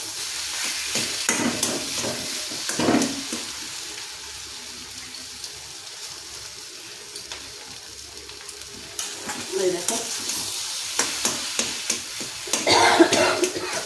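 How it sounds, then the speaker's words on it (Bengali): Prawn heads coated in turmeric fry in hot oil, giving a steady sizzle broken by scraping stirs and clinks from a utensil, with a brief spoken word nearby. "ভাজা হচ্ছে।"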